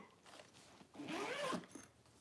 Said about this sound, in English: Nice smooth zipper.